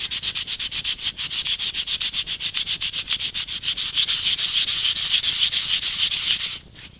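Fast, steady back-and-forth sanding strokes scrape across hard injection-molded plastic of a Nerf blaster, close and continuous, then stop abruptly at the end.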